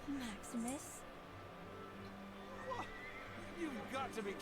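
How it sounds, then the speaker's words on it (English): A horse whinnies in Kingdom Hearts 3, its neighs rising and falling in several bursts across the clip over a steady game background, with brief clip-clop hoofbeats. "Oh, come on! He's a bad horse!"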